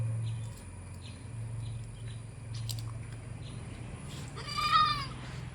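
A cross-breed goat kid just over a month old gives a single short bleat near the end. Before it there is a steady low hum, faint background noise and a few light knocks, and nobody speaks.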